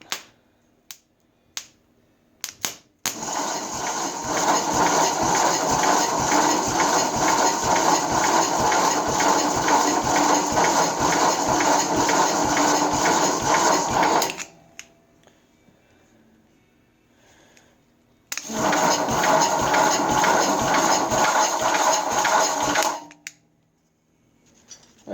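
A 1962 Wheel Horse 702 generator cranks over with its belt in two long runs of fast, rhythmic mechanical clatter, split by a quiet pause, with a few isolated clicks at the start.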